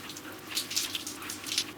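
Running water rinses vegan shampoo out of hair, a soft continuous splashing hiss with light uneven spatters, close and fairly quiet.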